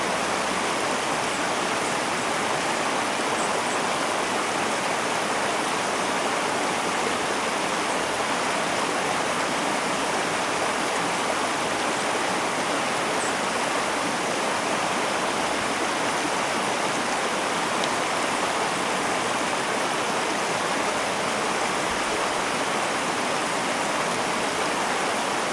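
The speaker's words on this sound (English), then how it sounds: "if you can still hear that creek going behind me" A creek runs steadily outdoors at a backyard cooking spot, a constant broadband rush of flowing water with no pauses or voices over the whole stretch.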